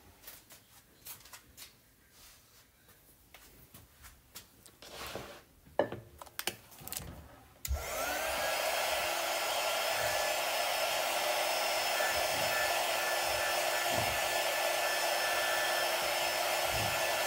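A hair dryer dries chalk paste on a craft project, switching on partway through after some handling noises and then running with a steady, loud blowing whir.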